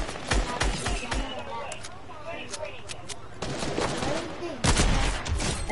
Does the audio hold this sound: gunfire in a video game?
yes